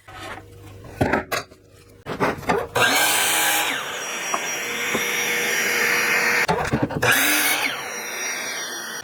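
After a few clattering knocks, a power saw whines into a sustained, loud cut, making a 22.5-degree bevel cut in a 2x4 for a Christmas tree build. The high steady drone holds for several seconds with brief interruptions.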